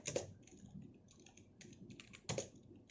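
Typing on a computer keyboard while writing a QBasic program, a steady run of light, quick key taps with a few louder strikes, close and alone.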